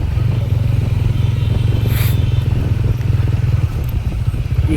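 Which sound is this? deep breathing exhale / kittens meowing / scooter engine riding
scooter engine riding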